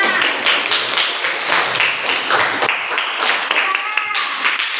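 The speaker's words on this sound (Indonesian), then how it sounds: "Tepuk tangan dulu buat kelompok 5" A classroom audience claps for a student group after its presentation, with scattered uneven clapping and voices talking and calling out over it throughout.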